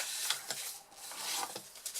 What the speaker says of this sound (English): Obviously just make sure when you are burnishing them that they stay in a straight line